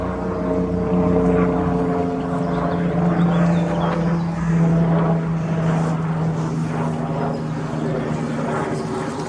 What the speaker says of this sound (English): I thought I could hear a helicopter there.